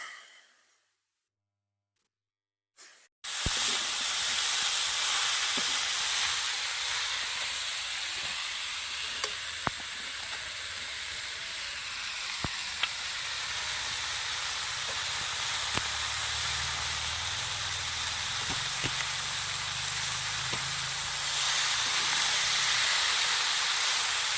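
Cabbage goes into a pan of chicken scraps already frying, setting off a loud, steady sizzle and steamy hiss. It holds for about twenty seconds with faint stirring scrapes and no talking.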